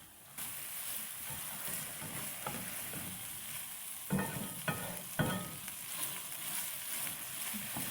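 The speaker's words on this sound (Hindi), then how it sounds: "आँच तेज करके इसको फ्राई कर लेते हैं। दो तीन मिनट इसको मुस्तकिल चमचे से चलाते रहेंगे।" Minced-meat qeema frying on high heat: a constant hiss and crackle of sizzling, with a few sharp spoon scrapes and clinks against the pan partway through, and no voices.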